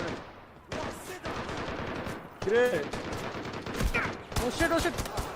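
Rapid automatic gunfire crackles in bursts in the Delta Force: Black Hawk Down video game, coming from behind, mixed with game effects and overlapping talk.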